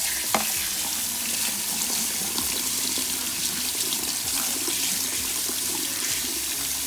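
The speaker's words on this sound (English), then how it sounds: "take your gear and plate to the sink, and plain water with a little rubbing cleans everything off" Plain tap water runs steadily into a sink while a printing plate is rubbed and rinsed clean of ink, a continuous close splashing wash with occasional scrubbing sounds, no voices.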